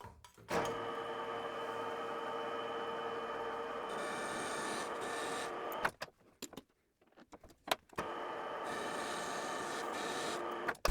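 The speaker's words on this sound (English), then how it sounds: "Just using this 1 millimeter grooving tool to add these as a guide for me to know what's going on." A 1 mm grooving tool on a Deckel S0 lathe cuts guide grooves into a metal wheel hub, giving a steady close scraping hiss that breaks off briefly partway through and then resumes.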